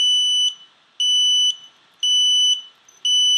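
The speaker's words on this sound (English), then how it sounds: "Hear that annoying buzzer?" A Diatone Crusader drone's flight controller buzzer beeps steadily, four loud, high-pitched electronic tones of about half a second each, evenly spaced around one second apart, with nothing else heard.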